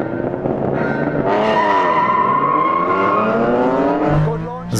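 Toyota Supra and Honda NSX launching off the line at a race start, tires squealing loudly over rising engine roar, close and intense for a few seconds before fading.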